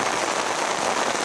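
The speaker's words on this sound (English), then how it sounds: "Yeah, it's proper rain." Heavy, relentless rain pours down at a lakeside fishing camp in France, a steady, even hiss of drops drumming on surfaces, close and continuous with no voices.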